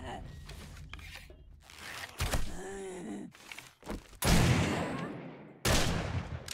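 Several loud gunshots hit a feral zombie in 7 Days to Die, each a sharp broadband crack with some ringing decay, mixed with zombie groans and a player talking.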